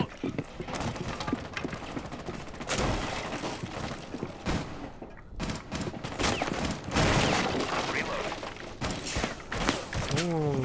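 Gunfire in Rainbow Six Siege, with repeated loud shots and bursts scattered through a busy in-game mix of impacts and movement, while a player talks over it.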